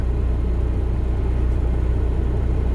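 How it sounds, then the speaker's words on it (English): A truck engine idles steadily after starting inside the cab, a low continuous rumble and drone that stays even and close throughout with no other sounds. "Then I started my truck."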